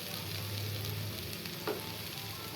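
Chopped tomato hits hot oil in a frying pan with a steady, close sizzling hiss that fills the whole stretch, a brief stir or clink near the end.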